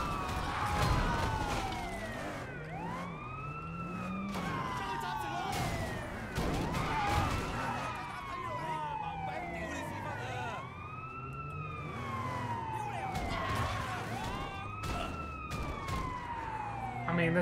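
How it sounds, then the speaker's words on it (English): Police car siren in the Sleeping Dogs: Definitive Edition video game, a wailing tone rising and falling in repeated sweeps through the whole stretch, loud and steady over engine and street noise. "there's a police car just got its sirens on, clearly backing up?"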